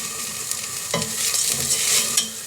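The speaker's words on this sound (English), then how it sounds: "So you can hear it sizzling gently, not too wildly." Onion and rice for a saffron risotto Milanese fry gently in a pan over medium heat: a steady close sizzle with soft stirring scrapes throughout.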